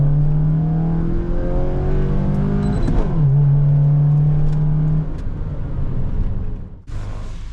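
A Honda Fit GK5 in sport mode accelerates with a loud, close engine note that climbs steadily in pitch, drops at a gear shift, then climbs again before easing off.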